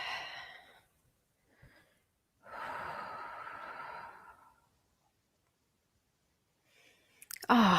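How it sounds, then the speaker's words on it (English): A deep yoga inhale followed by a long, steady exhale, close and clear against near silence, with a sharper sound at the very end. "And then let's take an inhale. And exhale back."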